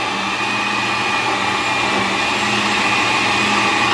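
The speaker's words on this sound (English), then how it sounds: "cover this and turn the blender on" A kitchen blender whirs steadily while blending a smoothie, a loud continuous motor drone close by with no pauses and no talk.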